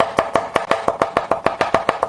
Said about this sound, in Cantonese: 切碎佢，